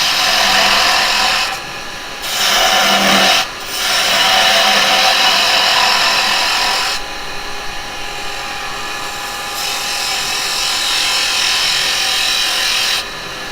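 A woodturning gouge cuts into firewood spinning on a lathe, a loud, continuous, close-up rasping whine with a few brief dips where the tool lifts away.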